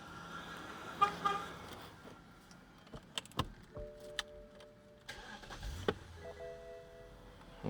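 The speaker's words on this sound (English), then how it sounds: "start the car quick." A 2007 BMW 750i starts up with a brief cranking and a catch into idle, followed by clicks and a few electronic chime tones, heard up close in a quiet setting.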